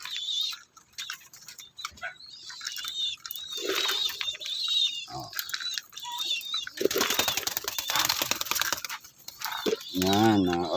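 Racing pigeons flap their wings in soft fluttering bursts while being fed, and a person talks over the wing noise at close range.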